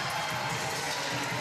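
A women's volleyball arena crowd cheering and clapping at a Southern California vs Indiana match, a dense, continuous roar filling the space at steady volume.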